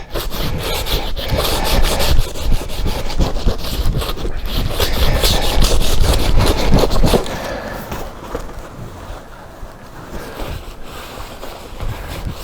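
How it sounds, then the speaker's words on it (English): Sandpaper rubs steadily over a homemade wooden hand scoop, a dense scratchy rasp that runs loud and continuous for about seven seconds, then drops to softer, lighter strokes until the end. No one talks. "So this sandpaper's getting it nice and smooth."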